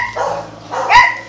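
Dogs barking indoors, two loud, close barks about a second apart, the second sharper and higher.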